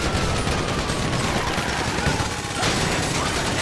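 Gunfire in the video game GTA 5 during a bank heist shootout in Paleto Bay, a loud, dense, continuous roar of overlapping automatic shots with no pauses.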